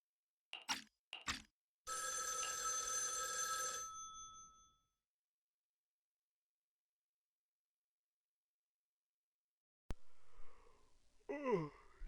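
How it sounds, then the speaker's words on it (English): A phone rings in the video game Zenless Zone Zero, with a few short sharp chimes followed by a steady electronic ring lasting about two seconds, then silence and a brief burst of game sound near the end. "As if responding to your laughter, your phone suddenly starts to ring."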